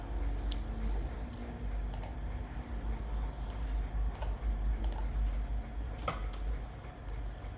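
Keys tapped on a MacBook M4 keyboard while entering a command in a terminal, scattered soft clicks in short irregular bursts over a steady low hum, fairly quiet and close with no talking.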